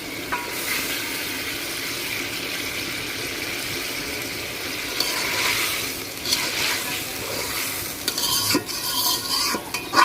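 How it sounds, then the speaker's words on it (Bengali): Fried eggs are added to a boiling, home-spiced egg curry and stirred, giving a continuous sizzle and bubbling with scraping spoon strokes and clinks growing busier toward the end. "ঝোলটা ফুটে গেছে, এখন ভাজা ডিম দিয়ে দিব"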